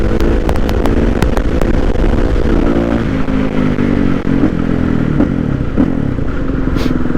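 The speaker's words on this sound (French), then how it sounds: "On va essayer de lever en 5 sans embrayage." A Kawasaki KX450F dirt bike roars close by as it accelerates hard in fifth gear without the clutch, its engine note climbing and wavering, with a few sharp clicks early on.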